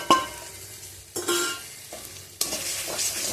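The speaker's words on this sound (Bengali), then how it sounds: "আবার ওই মশলার সাথে একটু ভালোভাবে কষিয়ে নেব।" Ground spices with sugar sizzle in hot oil in a pan for ghugni, stirred in three distinct bursts of scraping and frying hiss, close and fairly loud.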